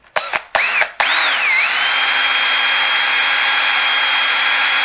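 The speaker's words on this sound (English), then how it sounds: "And I'll drill this hole just to start, because it has a pilot hole" A power drill enlarges the eye hole in a wood-carved decoy: a few short bursts and stops, then a steady close high whine that runs on at a constant pitch.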